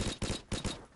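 Silenced P90 gunfire in the video game Modern Warfare Remastered: four quick muffled suppressed bursts in rapid succession, fairly faint and alone.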